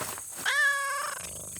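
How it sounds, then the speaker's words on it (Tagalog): An injured cat gives a single drawn-out, strained meow outdoors in a grassy lot, close and fairly loud, with quiet before and after. "Kuya, may pusa oh."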